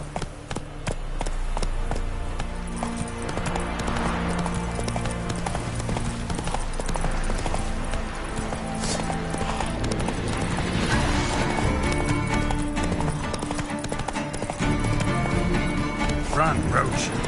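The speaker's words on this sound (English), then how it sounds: "Run, Roach." A horse gallops in The Witcher 3 video game, its steady clip-clop hoofbeats running continuously and loud across the whole stretch, blended with other in-game sounds.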